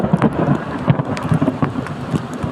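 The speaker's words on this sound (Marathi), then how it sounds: "आवाज येत असेल तुम्हाला कसं गडगडत आहे." Thunder rumbles low during the first rain of the season on the Konkan coast at Vengurla, under a steady loud hiss of rain, with no voices heard.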